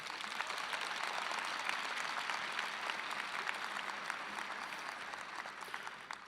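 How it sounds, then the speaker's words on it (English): A crowd applauds continuously at a university engineering school commencement, many hands clapping in a dense, even patter that tapers slightly toward the end. "Please give them a warm round of applause."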